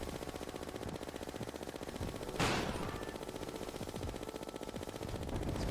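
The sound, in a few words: rapid gunfire from a gun in Terraria Calamity video game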